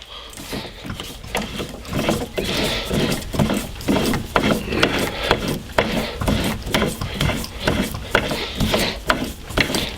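A drill bit is backed out of a wood blank on a Wen lathe, giving a rough, rasping scrape with rhythmic chattering bursts and mechanical whirring, close and fairly loud, with no talking.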